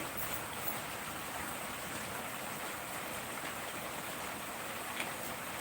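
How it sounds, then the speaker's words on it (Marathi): Heavy rain pours down in a steady, dense hiss that stays even throughout, with no speech and no breaks. "आमच्याकडे खूप पाऊस आहे"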